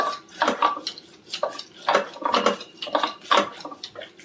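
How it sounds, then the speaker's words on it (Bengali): Boiled biuli (urad) dal being mashed in a pot with a metal dal-masher fork, a close, rhythmic series of clinks and scraping knocks, about eight strokes in steady succession, with nobody talking. "এবার ডাল ঘাঁটা কাঁটা দিয়ে ঘেঁটে নেবো"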